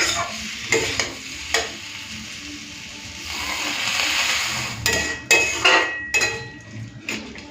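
Potato and poppy seed curry cooking in a pan, with a steady frying sizzle throughout and several sharp bursts of louder hissing and spatula scraping as water goes in.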